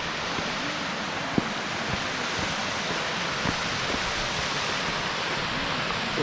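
A small waterfall on a Glacier National Park trail rushes in a steady, broad roar that fills the whole stretch, close and continuous with no voices.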